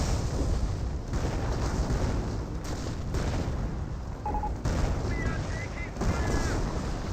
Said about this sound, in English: He's barraging the machine gun placement.